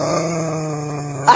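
A person imitating an angry bulldog with a sustained, throaty growl held close to the microphone, ending in a short sharp vocal burst.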